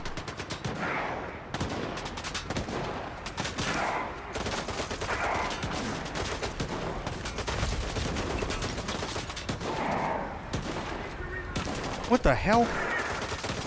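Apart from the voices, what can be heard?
gunfire in a video game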